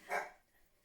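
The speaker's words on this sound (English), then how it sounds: "That's my dog joining in." A pet dog barks once indoors during a home sewing session, a single short, muffled bark at a moderate distance followed by quiet.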